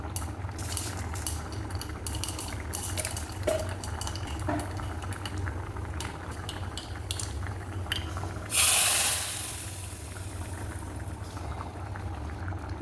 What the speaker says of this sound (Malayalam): അപ്പോൾ ഇതൊന്ന് താളിച്ച് നമുക്ക് ഇതിലോട്ട് ഒഴിച്ച് കൊടുക്കാം.